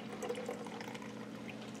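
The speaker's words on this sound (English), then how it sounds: "I'm gonna take the water off of the carrots" Cooking water is drained off boiled carrots, pouring in a soft, steady liquid stream that runs unbroken through the short clip, fairly faint and without talk.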